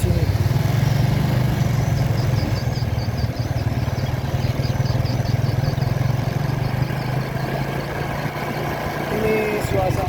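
A motorcycle engine hums steadily while riding along a waterfront in the morning, with constant road and wind rumble underneath; no one speaks.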